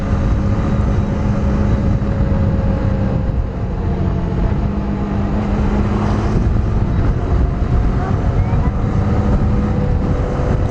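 Honda CB150X motorcycle on the road gives a steady, loud engine drone with wind rush throughout, nearby and continuous.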